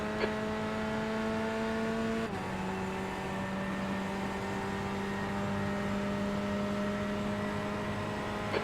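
An iRacing sim race car engine heard from the cockpit as another class car approaches, a steady loud drone that drops in pitch with a gear shift, then holds level.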